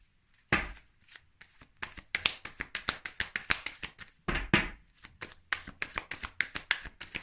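Tarot cards being shuffled up close: a rapid series of crisp papery slaps and riffles in irregular bursts, with a couple of louder shuffles standing out, and no talking.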